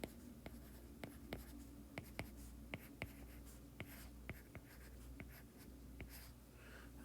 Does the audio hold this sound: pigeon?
no